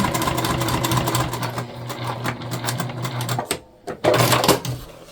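A sewing machine stitches a self-drafted tote bag in a fast, steady mechanical whir with rapid needle ticking. It pauses briefly near the end, then resumes.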